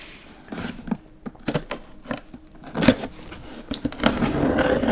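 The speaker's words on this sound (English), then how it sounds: "let's cut this case open" A blade slices open a cardboard case holding 2025 Hot Wheels cars, giving irregular scraping and tearing strokes with scattered taps and rustles, close up and without talk.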